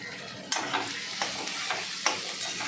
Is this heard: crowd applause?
no